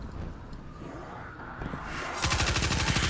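Kinetic SMG in Destiny 2 firing, with a rapid, dense burst of gunshots starting partway through and continuing loudly to the end after a quieter, noisy lead-in.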